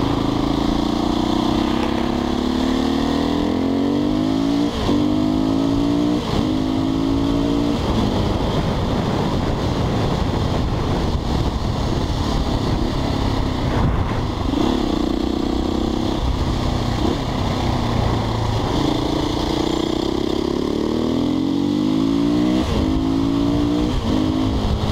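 A Husqvarna 510 SMR motorcycle accelerating, its engine loud and continuous, repeatedly revving up through the gears with rising and falling pitch sweeps, heard close while riding.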